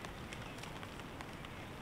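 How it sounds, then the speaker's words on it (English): Rain patters steadily on a camping tarp while a campfire crackles with scattered sharp pops, a close, continuous and soft texture with no voices. "And now I have the sound of the rain and the sound of the fire."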